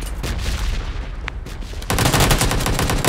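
Rapid Uzi submachine gun fire in a video game, a dense continuous burst that swells louder partway through and dominates the mix, with no talking over it.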